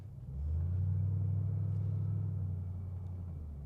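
A supercharged 2005 Pontiac GTO accelerates, a deep steady engine rumble that swells early and holds strong, heard from inside the car.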